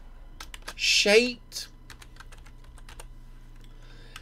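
Rapid clicking of a computer keyboard as code is typed for a Unity 3D Tetris clone, steady close taps running throughout, with a short spoken word near the start.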